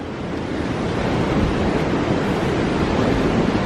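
Ocean surf washing onto a public beach in El Salvador, a continuous loud wash of breaking waves with wind buffeting the microphone throughout.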